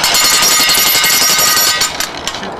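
An Oz hammer post driver, fitted with a spacer, pounds a fence post into the ground in a fast, loud, rapid-fire string of metallic impacts that slows and thins toward the end.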